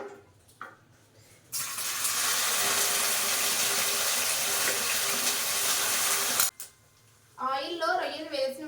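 Raw prawns drop into well-heated oil in a home kitchen pan and burst into a loud, even, hissing sizzle lasting about five seconds, then cut off. A voice speaks in the quieter moments before and after.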